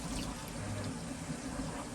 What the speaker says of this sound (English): Pour some Windex in there